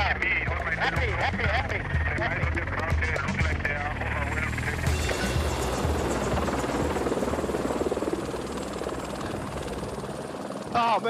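Helicopter rotor noise roars steadily and loudly throughout a police chase, with a constant thumping buzz, while a voice talks over it and radio chatter cuts in.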